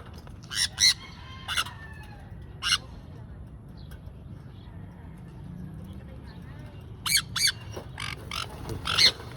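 Birds squawk in short, loud, scattered bursts as they are released at Centennial Garden outdoors, with quieter stretches between calls and a faint background hum.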